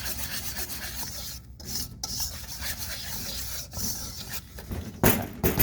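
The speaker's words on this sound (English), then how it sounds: "we're just gonna whisk it up really good just to get the baking powder" Dry pancake batter with baking powder is whisked in a bowl, giving a close, brisk scraping and rustling with short pauses and a few sharper clinks against the bowl.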